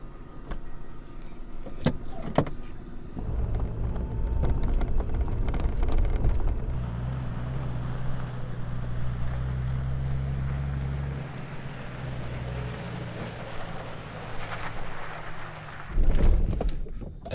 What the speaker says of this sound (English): we're gonna go into four-wheel here for a second,